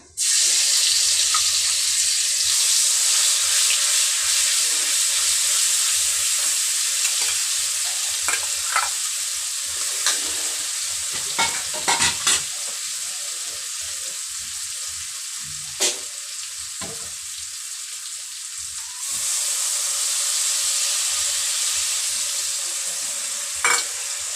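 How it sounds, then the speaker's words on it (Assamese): Spices frying and sizzling in a pan with browned fenugreek seeds, a steady close hiss throughout with occasional scraping stir sounds and brief clinks, and no talking. "মোৰ মেথি ব্ৰাউন হৈ গ'ল। এতিয়া মই ইয়াত দিম মছলা।"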